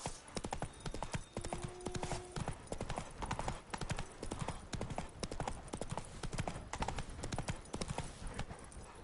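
The horse Roach galloping in The Witcher 3: Wild Hunt, a fast, rhythmic clip-clop of hooves that runs steadily throughout, close and fairly full, with a brief faint whinny-like tone early on.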